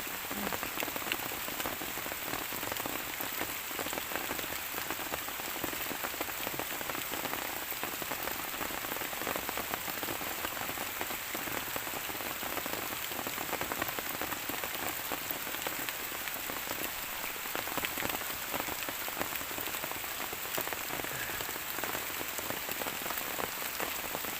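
Steady, dense rain falls on surfaces during an all-night downpour while termite mushrooms are dug from the ground, a continuous even hiss with close patter and no voices.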